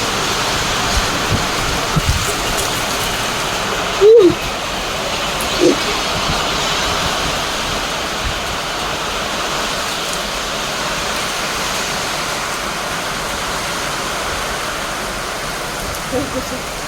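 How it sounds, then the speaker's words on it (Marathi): A steady, dense roar of heavy rain and hail hammering a metal sheet roof continues throughout, with occasional sharper knocks and faint voices in the background. "तुफान पाऊस करत गारांसकट"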